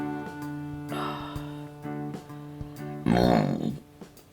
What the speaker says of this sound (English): Excuse you, Dr. Pepper burp.